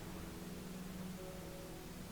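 Soft, steady pink noise hisses evenly throughout, with faint sustained low tones beneath it and no voices.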